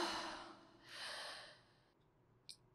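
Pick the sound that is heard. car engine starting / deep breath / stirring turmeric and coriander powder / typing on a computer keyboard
deep breath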